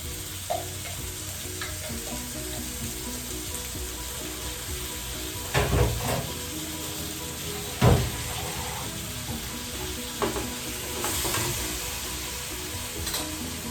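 Chopped coriander leaves and tomato sizzle in a hot pan at home with a steady crackle, broken by a few louder clanks and stirring knocks against the pan, close up and with no talking.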